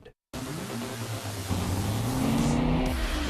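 A Nissan Altima race car drives past with a loud, steady engine roar and road noise that swells as it accelerates, the engine pitch climbing near the end.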